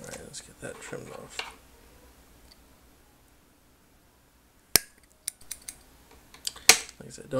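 Old, cheap scissors trim fly-tying thread while a fly is tied, making a few sharp, close metallic snips and clicks in short bursts after a stretch of speech and near silence.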